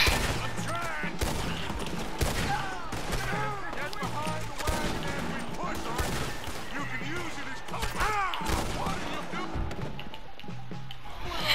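Rapid gunfire in Red Dead Redemption 2, shots cracking in quick bursts throughout over a busy layer of game sound and voices, steady and loud from start to finish.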